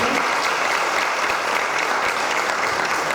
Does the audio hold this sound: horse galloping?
no